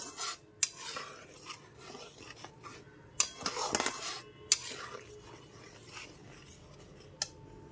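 A spoon scrapes and clinks against a pan as spice masala is stirred continuously over a low-medium gas flame, with close, intermittent metallic knocks over a faint sizzle.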